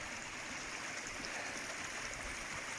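A stream flowing down a clough near the River Ashop in the Peak District, a steady faint rushing and hiss of water, continuous and uniform with no voices.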